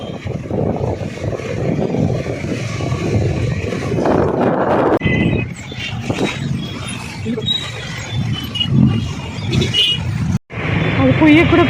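Heavy festival-time road traffic at KR Puram, with a steady close roar of car and bus engines and a continuous rumble throughout, under talk.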